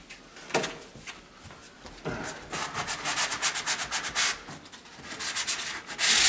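Drywall on ZIP System walls being hand-sanded with repeated scraping, rubbing strokes in an uneven rhythm, close and fairly loud with no talking.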